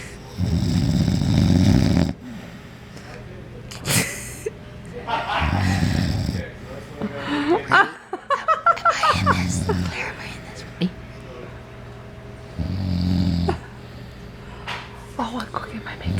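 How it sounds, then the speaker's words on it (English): Loud, rough snoring repeats in slow cycles close by, each snore lasting a second or two, with a whispering voice and soft breathy noises between them. "Stop snoring, I can't sleep."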